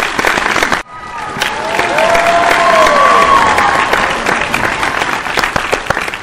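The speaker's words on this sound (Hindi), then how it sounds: "ये तालियां हैं मेरे लिए," A crowd claps and cheers loudly and continuously for a channel milestone celebration, a dense wash of applause after a brief opening burst and a short gap.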